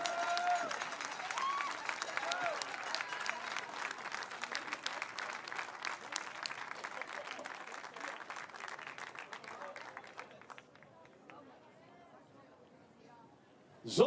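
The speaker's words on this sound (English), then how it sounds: "A big round of applause please" Crowd applause at a para-cycling road world championships medal ceremony, sustained clapping from an outdoor audience with cheers mixed in, fading out toward the end before a brief final sound.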